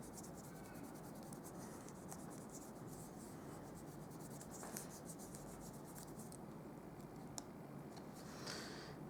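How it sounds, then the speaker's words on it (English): Steady soft rubbing of a hand or tool over stamped paper after pressing, a close, continuous dry scratching texture with a few faint ticks, with no one speaking. "Give it a little rub."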